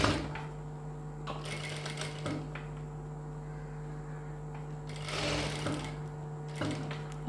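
Sewing machine stitching the folded edge of a boat-neck blouse, with short bursts of rapid mechanical needle clatter between pauses, close and over a steady electric motor hum.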